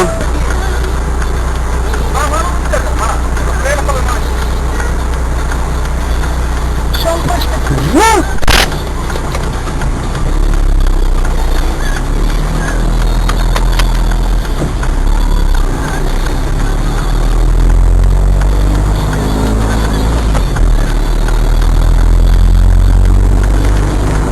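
An Egged city bus in Tel Aviv idles as it pulls into a parking spot, a loud continuous low engine rumble with hisses and clunks throughout, with people talking over it.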